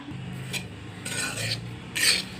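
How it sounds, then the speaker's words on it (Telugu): Grated coconut and rava (semolina) frying in ghee over a low flame, stirred in the pan with a few soft, raspy scraping strokes that stay quiet and close. "ఇప్పుడు దీన్ని నెయ్యి వేసి వేయించేద్దాం ఇలా సన్న సెగన పెట్టి వేయించాలండి"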